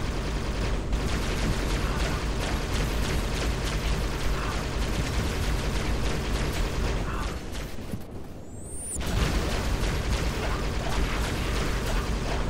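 A grenade detonates in Halo: Spartan Strike, a dense wash of game gunfire and mechanical clatter around a brief hollow dip in the middle, the mix loud and continuous throughout.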